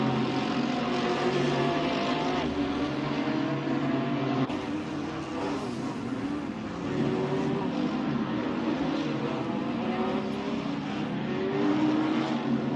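Race cars in the Assetto Corsa video game, a Lamborghini among them, drone past with layered engine tones rising and falling through gear changes, a continuous moderately loud racing roar with no talk.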